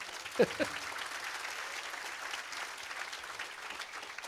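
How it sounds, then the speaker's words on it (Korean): Applause from the crowd at a Korean political talk concert rolls on steadily at moderate volume for a lawmaker, with a brief voice cutting in near the start. "김영진 의원도 박수 한번 부탁드립니다."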